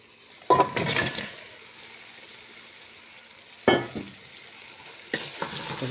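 Fried chicken pieces are stirred into spice masala in a pan: three bursts of scraping, clattering stirring over a faint, low sizzle, with quiet gaps between them and no talking.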